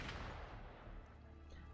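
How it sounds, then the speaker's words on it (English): Gunfire in the video game Wuthering Waves, a dense burst of booming shots at the start that fades into a rumbling, echoing tail, fairly faint with no voices. "Gunfire! We've got intruders."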